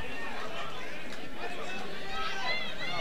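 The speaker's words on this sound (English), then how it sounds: "The crowd very happy with the victory for Ben Walker" Crowd at a Hardrock MMA heavyweight bout cheers and chatters after Ben Walker's rear naked choke victory, a steady loud hubbub of many voices with whistles and shouts rising near the end.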